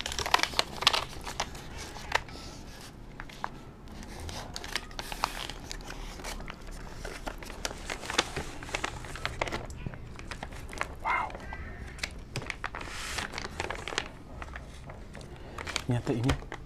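Paper wrapping around a packet of nasi padang rice with chicken and tempeh crinkles and rustles continuously as it is opened up close, while a person talks over the sound.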